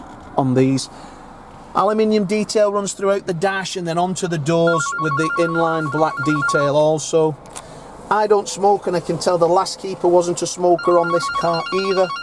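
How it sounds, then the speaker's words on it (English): A mobile phone rings muffled in a pocket inside a Volkswagen Arteon 2.0L R-Line TSI DSG. Its repeating electronic tone sounds under a man's steady, close talking about the car's interior. "Excuse the phone going off in my pocket there then."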